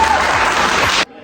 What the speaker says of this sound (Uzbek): qarsak qilib boshlaymiz endi